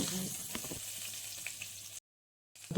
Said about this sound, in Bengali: ট্যাংরা মাছ তেল ছিটকে আসে কিন্তু এর জন্য ভাজার সময় খেয়াল রাখতে হবে